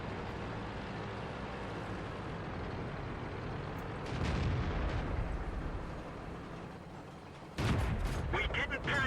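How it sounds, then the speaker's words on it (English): Artillery shells burst near a tank in a tank video game, two loud booming impacts with a rumbling tail, a few seconds apart, over steady engine drone. "And then artillery thankfully misses me"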